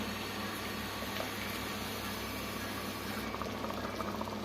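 Jaggery syrup simmers in a pot for sweet pongal, giving a soft, steady bubbling and hiss that runs evenly throughout.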